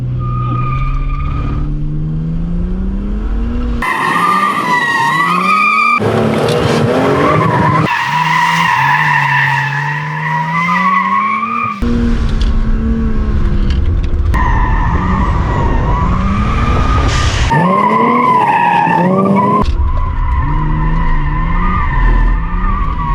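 A car weaves around slalom cones in a figure-of-eight at a motorkhana event, its tyres squealing in long, loud, repeated skids. The engine revs rise and fall between turns, with no talking.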